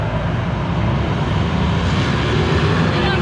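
Racing motorcycles at Bike Week 2022 pulling away after a green light, a loud continuous engine roar filling the whole stretch with no break or voices.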